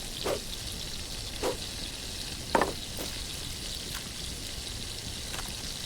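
Water boiling in a pot in The Last Plague: Blight, an open-world survival game: a steady bubbling hiss with a few soft pops spaced through it, and no voices.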